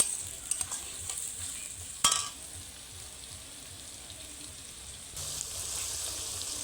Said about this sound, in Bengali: 2-3 সেকেন্ড মতো পেঁয়াজটা ভাজা ভাজা করে আদা রসুন বাটা দেব